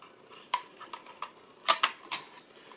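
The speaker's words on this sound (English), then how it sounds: "Let that screw drop to the table." A small screw from a DJI Phantom 2 Vision+ drone drops onto a table with a few light, sharp ticks and a brief bounce, close and quiet in a still room.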